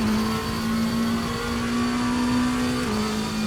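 Lamborghini Temerario GT3 with a 4-liter V8 in the RaceRoom racing game, a steady mid-pitched engine drone holding near-constant revs, then dipping slightly near the end, loud and continuous with no talking.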